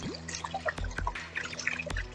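Water trickles and drips in a small rock fountain waterfall, with scattered bright splashes and a few sharp knocks against a quiet, close background.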